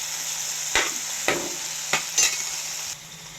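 Peanut chutney with tomatoes gets stirred in a hot pan, with four or five distinct scraping strokes over a steady soft sizzle and no voices.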